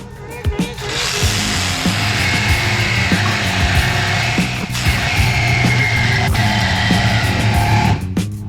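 A saw blade grinds steadily through metal inside a Corvette C8 interior during roll-cage work, a loud continuous rasp with brief pauses and catches, fairly close.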